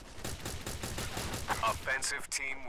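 Pistol shots ring out in rapid succession in the mobile FPS game The Origin Mission, sharp close bursts fired in a quick regular rhythm, with a faint voice in the background.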